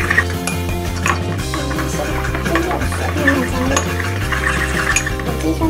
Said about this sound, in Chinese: 先把它们搅拌均匀，直到天然乳化剂粉没有再结块